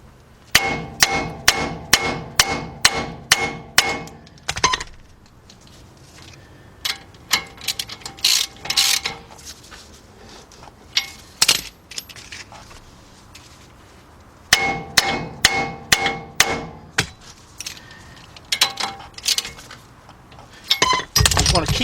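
Wheel studs on the front hub of a 2006 Kia Sorento 4WD are tightened with rapid bursts of ratcheting clicks and metallic clanks, loud and close, broken by short pauses.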